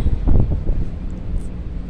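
Steady wind rushing and buffeting against the microphone, with low rumbling gusts throughout and no voices.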